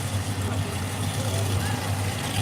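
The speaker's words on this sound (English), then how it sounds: "That's one mean running tractor right there." Pulling tractor engine running at a tractor pull, a loud, steady low rumble with a strong drone that holds constant throughout.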